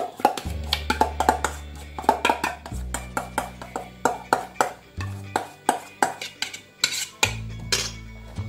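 A tiramisu mixture is folded into beaten egg whites, the spoon clinking and scraping against the bowl in a quick, uneven rhythm, with low sustained tones running underneath.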